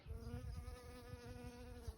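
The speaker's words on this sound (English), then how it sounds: "There is a bee just in there, you see him?" A bee buzzes steadily among cornflowers on a summer flower farm, a close, even droning hum that holds throughout, quiet and with no talk.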